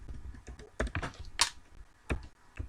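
Keys on a computer keyboard clack in an irregular run of close, crisp taps and a few heavier strikes while code is typed, with short pauses between bursts.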